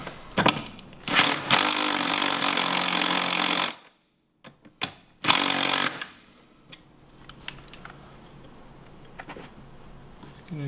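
A power tool tightens bolts on a Ski-Doo Summit G front bumper in loud, close rattling bursts, one long run then shorter pulses, with quieter clanks and handling noise afterward.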